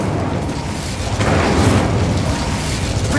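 Incendio fire spell cast in Hogwarts Legacy, a steady roaring whoosh of flame with a swelling burst midway, continuous and fairly loud throughout.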